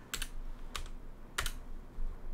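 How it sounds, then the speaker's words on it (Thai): Keys clack on a computer keyboard in three quick bursts of typing with short pauses between, as a formula is entered into a Google Sheets spreadsheet; close and clear with no talk. "แล้วก็กลับมาพิมพ์คำว่า substitute นะครับ"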